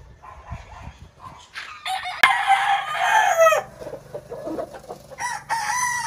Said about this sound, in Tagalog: ang limang stag na dadalhin ko kay Kuya Raggy